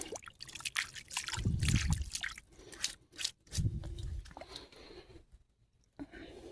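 Water trickles and splashes in bursts while rough petrified wood is rinsed outdoors on an Alabama hillside, with louder wet gushes near the start and middle and quieter dribbling between.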